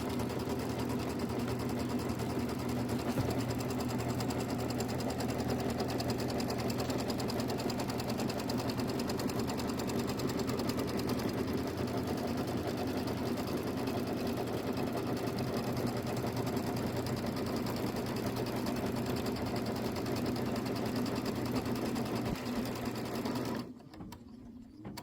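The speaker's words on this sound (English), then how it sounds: "first stitch out is going to be placement for your batting. So go ahead and stitch that out." An embroidery machine stitching the batting placement line for a small quilt block runs in a steady, loud mechanical hum with a fast repetitive needle rhythm, then stops near the end.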